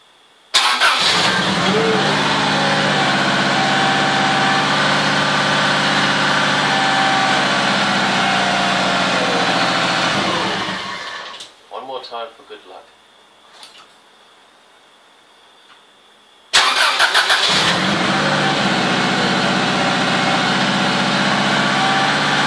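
A car engine with a newly fitted starter cranks and fires up, running loud and steady for several seconds, cuts out with some clicks and quiet, then roars back to life.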